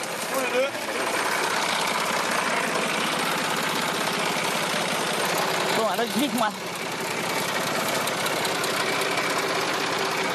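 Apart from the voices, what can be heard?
tractor engine running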